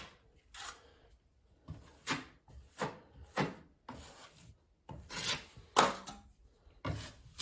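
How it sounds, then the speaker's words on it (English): A drywall knife scrapes and smooths a thin layer of joint compound over a wall repair in short rasping strokes, about a dozen close, crisp passes with brief pauses between them. "Just smoothing it out, pretty thin layer."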